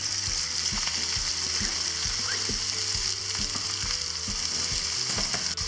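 Shallots sizzle and fry steadily in a hot pan, with a constant crackling hiss and faint soft stirring knocks, close and alone.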